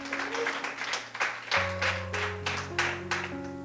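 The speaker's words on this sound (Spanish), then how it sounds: "Denle ese fuerte aplauso al Señor Jesús." Church congregation applauding in praise during a sermon, a steady wash of many hands clapping with sustained music tones underneath, moderately loud throughout.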